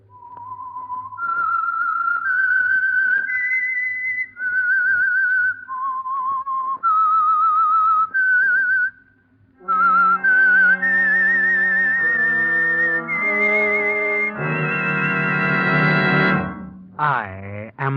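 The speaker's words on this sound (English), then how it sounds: "That whistle is your signal for the Signal Oil Program" A lone whistled theme tune for the Whistler mystery radio drama, a slow eerie melody of sustained notes and glides, then joined by a swelling orchestral passage that builds and ends abruptly.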